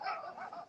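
A dog gives one short, muffled bark, faint and somewhat distant, lasting under a second.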